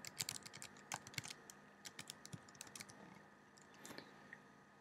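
Code being typed on a computer keyboard, quick irregular key clicks in bursts, close and fairly quiet, with no talking.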